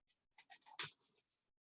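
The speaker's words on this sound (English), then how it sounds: "Sorry, page turning." A paper page is turned during a lecture, giving a few soft, brief rustles and one sharper crinkle close by, then quiet.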